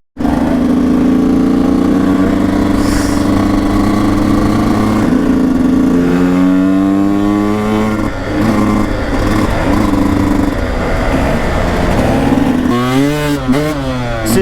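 A motorcycle rides with its engine running loud and continuous throughout, the pitch rising and falling as it accelerates and eases off, with sweeping revs near the end.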